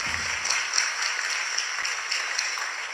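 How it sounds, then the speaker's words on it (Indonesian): Audience applause at a lively religious study gathering with a comic preacher duo, a steady dense clapping that holds at an even level throughout, fairly close and filling the room. "Tepuk tangan."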